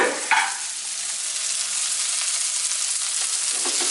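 Onions frying and being stirred in a pot, a loud, steady, close sizzle that holds broad and continuous throughout, with a brief scrape of stirring near the start and no talking.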